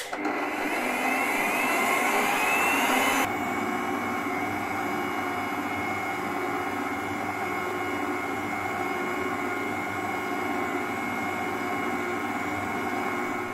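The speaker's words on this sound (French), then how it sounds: "Et je démarre le mélange en première vitesse." A stand mixer kneads Fribourg cuchaule dough at first speed, giving a loud, steady motor whir with a sharper high whine for the first three seconds before settling into a constant hum.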